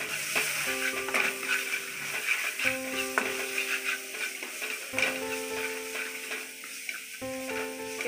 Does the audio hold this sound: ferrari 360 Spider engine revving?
no